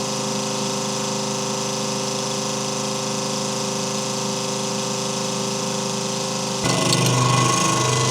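A BreAro transfer pump moves corn with a loud, steady mechanical hum and whir. Near the end a rougher rattling, grainy rush breaks in.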